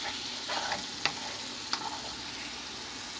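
Short ribs searing in a pan over medium heat give a steady, even sizzle, with a couple of faint clinks from utensils against the pan.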